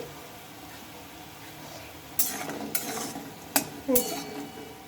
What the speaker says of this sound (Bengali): এগুলোকে এখন আমি তুলে নেব বন্ধুরা বেশ লাল লাল করে আমি খানিক্ষণ ভেজে নিয়েছি